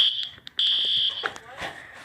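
A school fire alarm rings in short high electronic bursts, loud and piercing, with voices and bumps around it.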